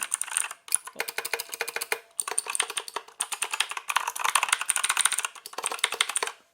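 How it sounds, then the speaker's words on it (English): Rapid clicky keystrokes from a GranVela MechanicalEagle Z-77 mechanical keyboard with Outemu blue switches, typed in several quick bursts with brief pauses, close and crisp with no talking. "let me press on the keys so you can hear the sound"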